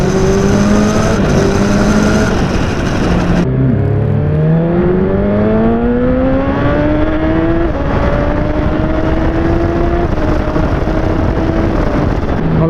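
A motorcycle fitted with a Translogic iS4 quick shifter accelerates hard, its loud engine note climbing and dropping sharply with each clipped, seamless upshift in a quick series, close and continuous.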